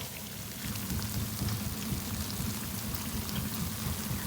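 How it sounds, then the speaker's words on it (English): Puff-puff dough balls frying in hot oil for a Nigerian snack, a steady dense bubbling sizzle at moderate level, with no talking. "Just turning it so that it can fry together."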